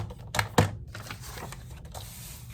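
A paper cutter slices paper for a file folder, with a couple of sharp mechanical clunks from the blade followed by a softer scraping slide, close and fairly quiet.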